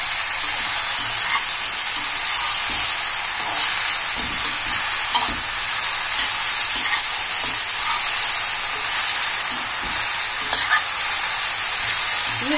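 Okra frying hard over a high flame gives a loud, steady, dense sizzle with a hissing wash that barely changes from start to end, close and unbroken.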